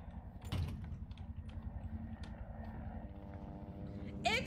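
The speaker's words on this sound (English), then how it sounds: "Is that a helicopter? Yeah, it is. Sounds like one." Helicopter in the survival horror video game Resident Evil 2 Remake, a steady low rhythmic rotor chop thrumming throughout, moderately distant, with a sharp thud near the start and a brief bright noise at the end.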